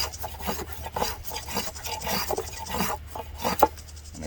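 A Stanley spokeshave smooths a wooden surface with quick, repeated rasping strokes, moderately close and fairly quiet, with no voices.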